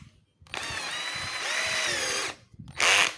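A cordless drill fitted with a number 4 bit spins up and drills steadily for about two seconds, pitch shifting under load, then gives a second short burst after a brief pause, close and fairly loud.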